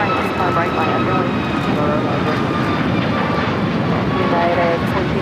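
An airliner roars down runway 25 right at LAX on its takeoff roll, a loud sustained broadband jet rumble with a rising whine. A radio voice talks over the engine noise.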